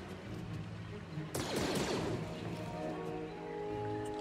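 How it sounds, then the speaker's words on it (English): Blaster fire aimed at the player in Star Wars Jedi Fallen Order, a sudden burst of sharp shots at mid-clip over a busy ambient background with musical tones, a voice talking throughout. "I have no idea who's shooting me right now"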